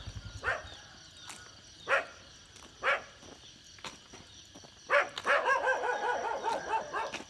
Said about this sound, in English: Sorry about barking dogs,